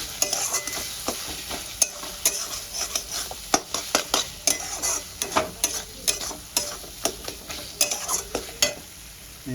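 Ginger, garlic and green chili sautéing in hot oil, with a steady sizzle punctuated by repeated sharp scrapes and clinks of a spatula against the pan, close and loud.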